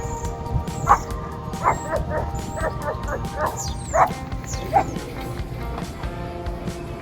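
Small dogs in a store give several short yips and barks with a faint whimper, scattered over steady background hum and shop noise.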